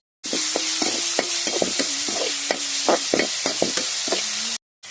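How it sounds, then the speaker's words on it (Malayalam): Ginger, garlic and green chilies sizzle steadily in hot coconut oil, a close, continuous hiss broken by a dozen or so sharp taps of a spoon stirring against the pan. "വെളിച്ചെണ്ണ ചൂടായിട്ടുണ്ട് ഇത് നമുക്ക് വാട്ടിയെടുക്കാം കേട്ടോ ഇഞ്ചി വെളുത്തുള്ളി പച്ചമുളക് ഇതൊന്ന് നമുക്ക് മൂപ്പിച്ചെടുക്കാം"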